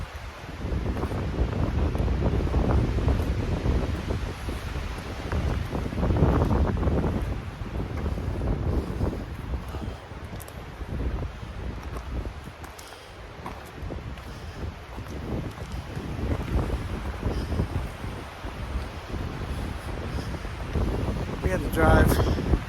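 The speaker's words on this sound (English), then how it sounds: "It's nice and windy out too" Gusty wind on a hillside hike in Many Glacier, Montana, buffets the microphone in rough, uneven low rumbles that swell and ease continuously throughout.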